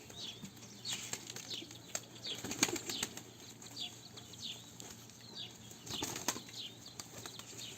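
A Kayseri tumbler pigeon flaps its wings in short bursts as it lands on a rooftop, with a few brief, fairly faint flurries against quiet outdoor background noise.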